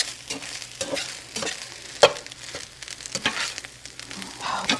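Chicken fried rice sizzles in sesame oil in a hot pan, a steady close frying hiss broken by scraping stirs and one sharp clack of a utensil near the middle, with no voices.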